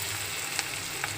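Potatoes fry in a pan with a steady, close sizzle, broken by a couple of faint scrapes and a brief drop near the end.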